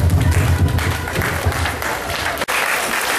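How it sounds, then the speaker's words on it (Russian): Audience applause in a hall at a folklore festival award for the Nadezhda club, loud, dense clapping that continues throughout with a brief dropout near the end. "Вот аплодисменты зрительного зала"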